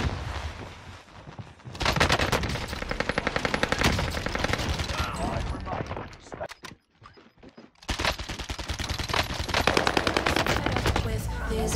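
Rapid Uzi submachine gun fire in a shooter game, long sustained automatic bursts with a brief pause in the middle before firing resumes, loud and close.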